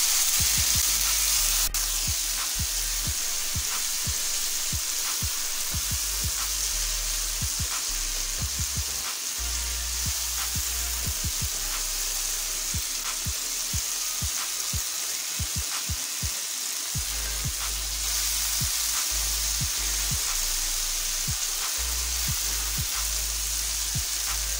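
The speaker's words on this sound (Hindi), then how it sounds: "इसे अच्छी तरह भून लेंगे" Crushed chillies, turmeric, dried coriander and chilli powder fry in oil for a kidney bean and black-eyed bean curry, giving a loud, continuous sizzling hiss with occasional soft stirring clicks throughout.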